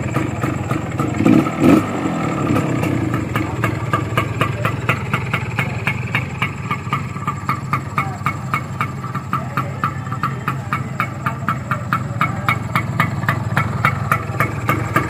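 A 1979 Kawasaki GTO 110 motorcycle engine idling nearby, loud and steady with evenly spaced firing beats, a brief clunk near the start, then a continuous putter alone without voices.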